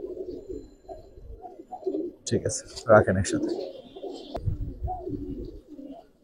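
Strong Giribaz flying pigeons in a loft give low rolling coos that run underneath people talking, with a brief clattering burst of movement partway through.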